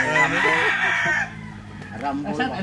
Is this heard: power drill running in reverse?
no